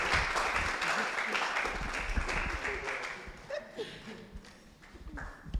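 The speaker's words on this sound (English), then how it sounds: "you see how you clap? That is what I want to hear." An audience at a celebration for women and girls in science claps in a dense burst that thins out and fades, with a few scattered voices at the end.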